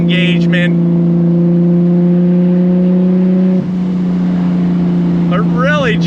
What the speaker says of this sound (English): Love the sound of that exhaust.